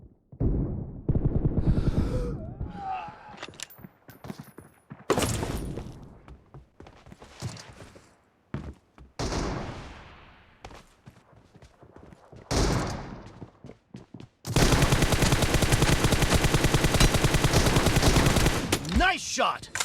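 Shotgun and sniper gunfire from the mobile battle game PUBG Mobile, heard as loud close bursts and single shots separated by short gaps, ending in a long dense stretch of sustained firing.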